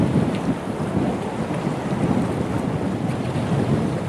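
Strong wind buffets a fishing boat drifting in a ship channel, a steady roaring rush with gusty microphone noise and a faint wash of water underneath, continuous throughout and no talking.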